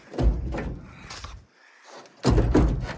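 Door of an old, rusty International Harvester W400 LP truck pulled open with two heavy metallic thuds and scrapes, loud and close, separated by a brief quiet gap.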